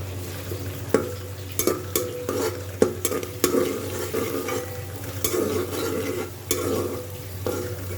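A steady sizzle of garlic ginger paste frying in a hot pan over a medium flame, with repeated scraping and clinking strokes of a spoon stirring it, close up and loud.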